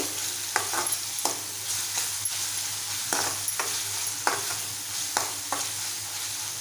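Spice masala sizzles steadily in hot oil for spicy prawn rice, with a spoon scraping and stirring through it in a string of sharp, close strokes. No one speaks.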